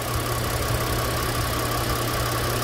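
A 2023 Nissan Frontier Crew Cab engine with an aluminum head and block idles close by, giving a steady, even hum with no one talking.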